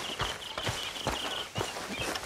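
A horse in Red Dead Redemption 2 moves at an even, rhythmic pace, its hooves thudding close by in a steady clip-clop pattern with a faint high ambient tone behind.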